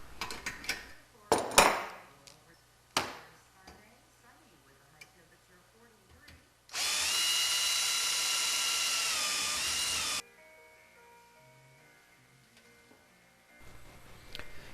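A power drill opens up pre-drilled undersized rivet holes in a Van's RV rudder kit, one sustained whirring burst of a few seconds amid scattered clicks and handling knocks.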